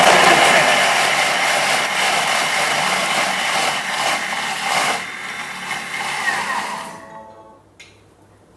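A Thermomix chops beef curry ingredients with the lid on, a loud steady whirring and grinding that runs for about seven seconds, then cuts out to near silence.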